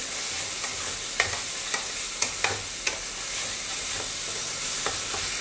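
Ground spices, cumin powder with a pinch of salt, stirred and fried in a pan: a steady low sizzle runs throughout, broken by a series of sharp scraping ticks from the spoon against the pan.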